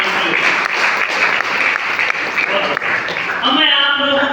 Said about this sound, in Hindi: जोरदार तालियां किसान भाई के लिए